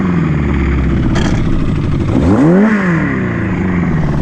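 A loud Yamaha Fazer 600 motorcycle engine with its exhaust baffle opened idles with a deep, throaty exhaust, then revs up and back down once, close by.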